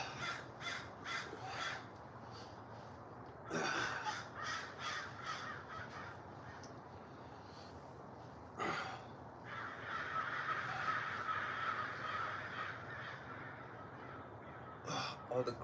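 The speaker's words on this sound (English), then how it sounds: "All the crows are flying." Crows caw repeatedly outdoors, several calls in a row and overlapping, with a voice heard faintly at times.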